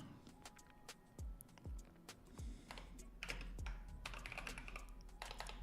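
Typing on a computer keyboard at close range, a quiet, irregular patter of key clicks with a few heavier thumps, no talking.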